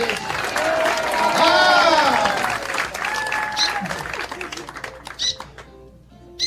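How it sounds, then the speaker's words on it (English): Audience clapping after a magic trick with balls, a full round of applause swelling then thinning out over several seconds, with scattered voices and a few late claps. "Applause"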